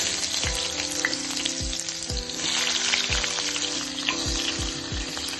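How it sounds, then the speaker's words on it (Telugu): Chopped onion fries in hot oil, a steady loud sizzle running throughout with repeated scraping stirs of a spatula in the pan, no talking. "ఇప్పుడు ఇదే ఆయిల్లో తరిగిన ఉల్లిపాయ వేయించేసుకోవాలి"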